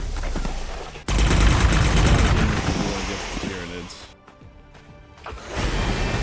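Gunfire in a Warhammer strategy game featuring Craftworld Eldar units, heard as a dense, loud rattle of rapid shots with booming impacts. It drops to a brief lull before resuming, and game effects sound alongside it.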